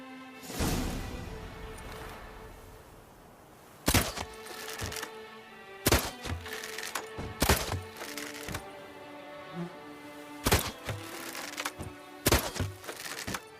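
Projectiles thud and crack into red targets during a shooting challenge in The Witcher 3: Blood and Wine, a series of sharp, separate impacts spaced a second or two apart over a steady musical game background.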